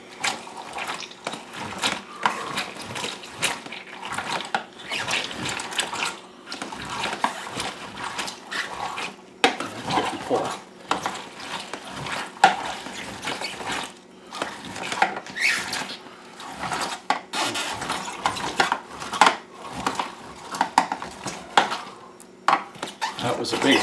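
A hand-cranked Weston food press crushes food dropped into its hopper, giving a steady run of crunching, clicking and squelching with mechanical knocks, close and continuous throughout.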